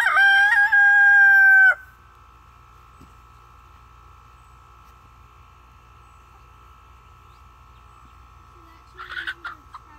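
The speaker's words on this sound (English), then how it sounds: "big fat rooster" A big Barred Rock rooster lets out one loud, close crow lasting under two seconds, then the yard falls to a steady low hum with faint background noise and a brief burst of clucking near the end.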